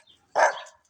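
A single sharp dog bark aimed at the household cats, loud and close, standing alone after a brief quiet lead-in.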